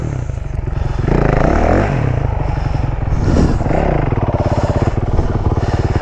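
A motocross bike ridden enduro-style through woods revs and bogs close by, the engine note rising and falling continuously with clutch feathering and some clattering over rough ground.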